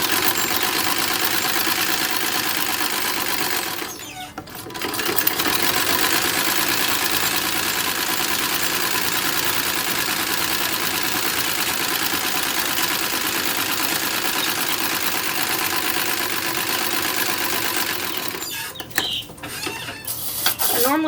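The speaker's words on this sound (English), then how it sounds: "I'm going to sew up the sides." Sewing machine stitching up the sides of a 1904-style traveling bag, a steady mechanical hum running continuously with two short breaks where the motor stops and restarts.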